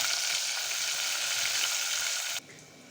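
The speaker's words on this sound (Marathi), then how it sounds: "कांदा चांगला लालसर होईपर्यंत परतून घ्यायचा" Chopped onion sautéing in oil for a Marathi matki bhaji, a steady close sizzle that runs unbroken and then drops sharply quieter near the end.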